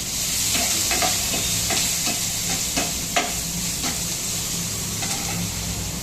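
Cumin seeds crackle and sizzle in hot oil for a tadka, a dense, continuous frying hiss broken by brief pops and stirring scrapes, close and fairly loud with no talk.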